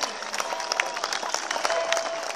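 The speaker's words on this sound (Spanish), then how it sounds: "vamos a recibir con fuertes palmas a Bancay" An audience at a dance contest in Cotabambas welcoming the Abancay dance group with a sustained, lively wash of many hands clapping, crowd noise and faint cheers mixed in.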